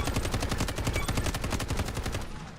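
A short-barrel AUG rifle firing in the shooter game Delta Force, a steady rapid automatic burst of evenly spaced, close, loud shots running for a couple of seconds with no talking.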